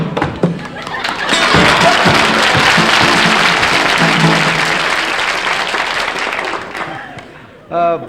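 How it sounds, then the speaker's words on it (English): Studio audience applause on a 1960s variety show, a loud dense wash of clapping that swells quickly, holds, then tapers near the end before a brief voice cuts in. "You get applause for doing nothing"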